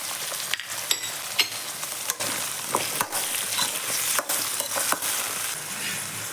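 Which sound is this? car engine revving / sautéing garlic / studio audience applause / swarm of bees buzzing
sautéing garlic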